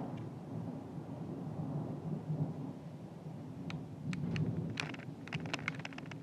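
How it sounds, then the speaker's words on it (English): Thunder rumbling through a thunderstorm, a broad low roar building in two swells with sharp crackling transients toward the end, heard from indoors with no talking. "Big thunder and lightning."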